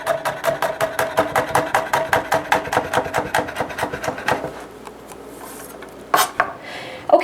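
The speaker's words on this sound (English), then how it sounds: "and then I will just get mincing" A knife chops rapidly and steadily on a wooden cutting board while mincing garlic, about twenty close, loud knocks for four seconds, followed by quiet and then a couple of sharper clatters near the end.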